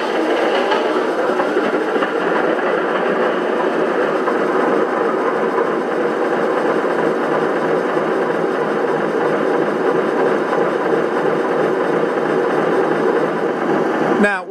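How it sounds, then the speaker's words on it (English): A Lionel Vision Line Baldwin Centipede model locomotive engine idles with a steady, loud, buzzing drone that holds unchanged throughout, then cuts off abruptly at the end. "with the engine just idling here"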